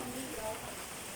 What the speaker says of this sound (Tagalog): umuulan pa rin hanggang ngayon